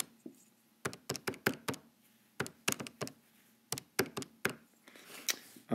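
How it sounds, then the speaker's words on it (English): Calculator keys pressed by hand in irregular quick bursts of crisp close taps, a dozen or more clicks with short pauses between groups, with no voice present. "So now we can plug it into the calculator."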